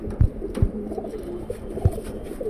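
Old tournament racing pigeons, around five years of age, coo in a loft with soft rolling calls, joined by a few sharp thumps and knocks nearby.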